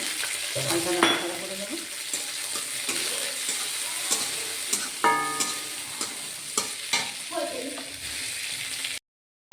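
Cashews and raisins frying in a spoonful of ghee, a constant close sizzle broken by spoon stirs and clinks against the pan, with faint voice fragments beneath, ending abruptly.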